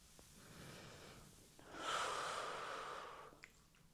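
A person breathes during a seated chair Pilates stretch: a quiet inhale, then a longer, louder airy exhale lasting over a second, heard close and alone.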